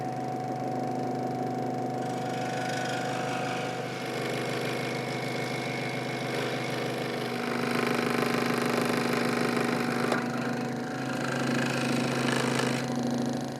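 A motorized scroll saw cuts a hole in a bobbin plate for a CNC pickup winder, giving a steady close buzzing hum with a bright harmonic whine that shifts slightly as the blade works. No one speaks.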